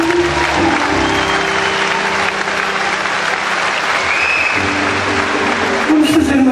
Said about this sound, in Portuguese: o meu sobrinho mais jovem, Gonçalo Tavares, uma salva de palmas.